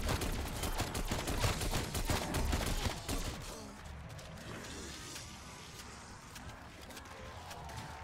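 Rapid gunfire from a weapon in Call of Duty: Cold War Zombies, loud and dense for the first three seconds, then easing into a lower, steady clatter of game action.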